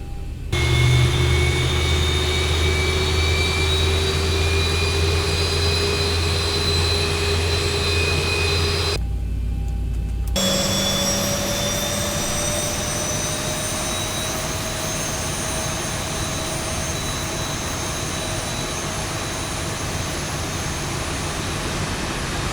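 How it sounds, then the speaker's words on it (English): Right engine of a jet airliner spooling up during start in the X-Plane 12 flight simulator: a loud, steady whine with rising tones over a broad roar, a short dip midway, then a settled high hum. "We'll do the same process for the right engine."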